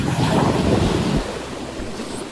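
Ocean surf breaks and washes close by along the shore beside a seaside restaurant at the Four Seasons in Maui, a loud rushing swell that drops to a softer wash, with wind buffeting the microphone.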